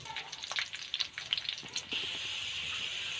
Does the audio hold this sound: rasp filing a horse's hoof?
no